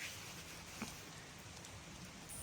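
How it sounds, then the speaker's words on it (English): Rain falls in a forest as a quiet, steady hiss with a few distinct drops tapping nearby, soft and continuous throughout. "then it started to rain"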